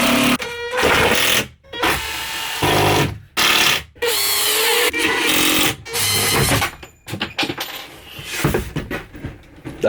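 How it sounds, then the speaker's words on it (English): A power drill drives 3.5-inch screws into a wall to secure a heavy clothes rail, giving loud whirring bursts several seconds long, broken by short silent pauses. "So we are going to get some beastly screws up in there"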